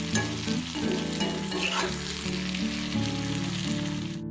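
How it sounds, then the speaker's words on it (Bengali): Potato and eggplant frying in oil in a home kitchen, a steady loud sizzle with the scrape of a spatula stirring throughout. "আলুটা একটু ভাজা ভাজা করে নিয়েছি আগে তারপর বেগুনটা দিলাম"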